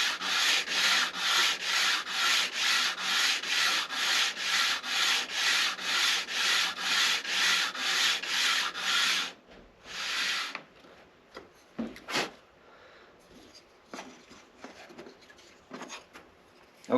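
A rhythmic rasp of 100-grit sandpaper works the soft wood of a guitar back plate, about twenty even back-and-forth strokes close up, then stops. Scattered scrapes and handling knocks follow.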